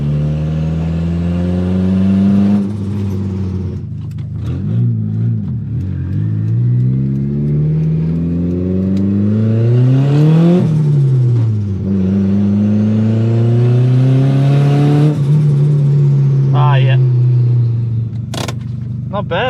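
A Mitsubishi Evo accelerates hard through the gears, engine rising in pitch and stuttering against boost cut at the top of each pull, loud and close throughout.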